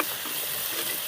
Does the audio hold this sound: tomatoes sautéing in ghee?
yes